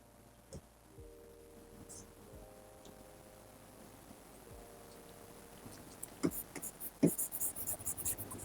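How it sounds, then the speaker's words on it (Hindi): A marker or chalk scratches across a board in a classroom lesson on chemical equations, faint and intermittent strokes in a quiet room, with a few louder taps near the end. "वहीं लिख देती हूँ मैं"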